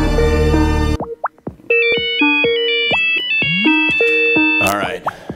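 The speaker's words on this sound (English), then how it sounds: "That is the Nokia ringtone." The Nokia ringtone plays as a loud, bright melody of short electronic tones in a quick rhythmic phrase, preceded by a brief burst of harsh noise.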